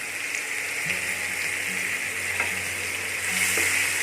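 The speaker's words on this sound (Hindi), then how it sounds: "चलाते हुए हल्का सुनहरा होने तक भून लेंगे।" Steady sizzling of onions frying in a pan, with occasional scraping and clinking as a spoon stirs them, close and continuous.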